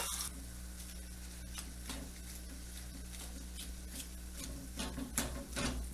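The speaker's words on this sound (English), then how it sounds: "So we're going to go ahead and put this in the cast iron skillet with the oil" Ground meat cooking in oil in a cast iron skillet gives a steady, close sizzle with crackling pops and occasional stirring scrapes, heard alone without talk.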